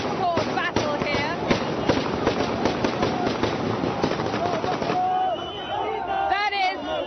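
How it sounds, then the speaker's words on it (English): Celebratory gunfire in Green Square, Tripoli, Libya: dense, rapid cracks and bursts of shots ring out over a loud crowd of cheering and shouting voices, with the firing thinning toward the end as voices carry on. "That is gunfire in celebration."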